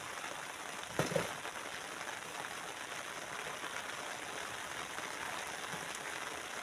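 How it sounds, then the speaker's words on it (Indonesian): Steady rain falls across an open sand mining site, a dense even hiss with a brief louder patter near the start and no voices. "terjadi hujan pada aktivitas penambangan kali ini"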